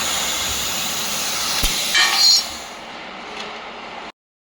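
A Maxcool 3-in-1 continuous laser cleaning, welding and cutting machine cuts with a loud, steady hiss and a brief sharper flare midway, then stops abruptly.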